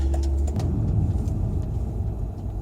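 A Volvo XC90 engine rumbles close by as it drives and brakes hard on new rear brake pads, with low road noise and a few faint clicks, no talking.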